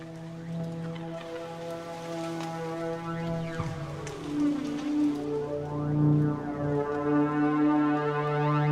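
A synthesized rain effect from a Kontakt sound-design instrument plays as a continuous hiss of drops layered with sustained tonal drones and shifting sweeping pitches, steady and moderately quiet throughout.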